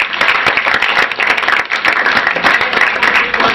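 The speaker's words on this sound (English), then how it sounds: "let's just give God a round of applause for that." Sustained applause and clapping from a church congregation, steady and loud throughout with no voices breaking through.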